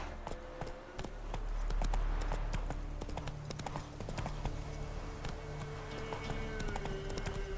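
Hooves of Roach, the horse in The Witcher 3, clip-clop in a steady galloping rhythm at close range throughout, amid game ambience and faint background noise.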